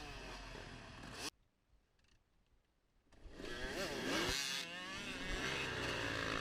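A 300 dirt bike on a motocross trail revs loudly close by, dips to near silence for about two seconds, then roars back at full throttle with rising, wavering engine pitch.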